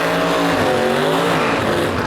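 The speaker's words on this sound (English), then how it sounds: "We got Chuck Stefanski with Big 3 Racing, driving his Safari Le Mans wagon." A Safari Le Mans wagon drag racing down the strip at Gainesville Raceway, a loud, continuous engine roar close by with the pitch climbing and shifting as it accelerates.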